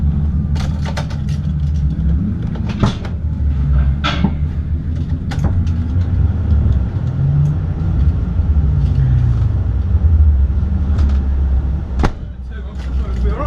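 A 750MC Type R race car at the Croft circuit in 2022, engine running in first gear, gives a loud, continuous low rumble with occasional sharp knocks and muffled voices in the background.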